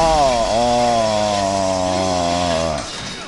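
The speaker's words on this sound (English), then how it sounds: "You need to use the chainsaw when he looks like that." A chainsaw engine runs in the video game Resident Evil 7, a loud, close, buzzing drone that dips in pitch briefly, holds steady, then winds down at the end.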